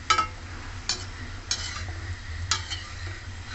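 Palm fritters (taler bora) frying in oil give a continuous sizzle, cut by four sharp scrapes of a stirring utensil spaced about a second apart, with no speech.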